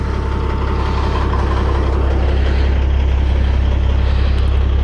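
A semi truck tractor with a sleeper cab idles nearby, a loud, steady low diesel rumble with an even rhythmic throb that holds unchanged throughout, no voices.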